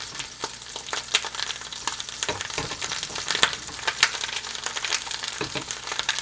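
Flour being stirred and worked into melted butter in a pan for a roux for braised lamb shanks, a soft sizzle broken by repeated scraping and tapping strokes from the utensil, with no talking.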